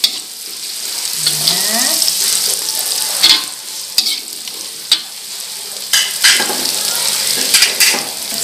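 Carrots stir-frying in a pan for fried rice vermicelli, a steady close sizzle with repeated scraping stirs and clinks of a utensil against the pan, with a brief word spoken.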